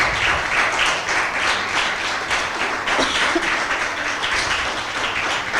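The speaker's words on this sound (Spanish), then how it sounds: "Denle un aplauso fuerte al Señor." Steady, loud applause from a church congregation fills the whole stretch, dense clapping without pause and no voices standing out.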